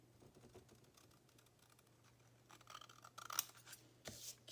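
Paper scissors trimming an overhanging edge on a paper craft folio, faint soft snips and rustling up close, with a couple of sharper cuts near the end.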